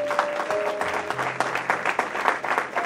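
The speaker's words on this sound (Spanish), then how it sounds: "Vamos a dar un aplauso" A church congregation applauding at the close of a sermon: steady hand clapping from a crowd indoors, moderately loud, with a few faint voices and a sustained musical tone underneath.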